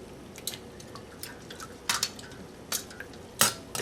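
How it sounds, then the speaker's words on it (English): Blanched asparagus spears plunged into a bowl of cold water, giving a few soft, close drips and splashes scattered over a quiet kitchen background, with no voices. "we immediately plunge it directly into some cold water"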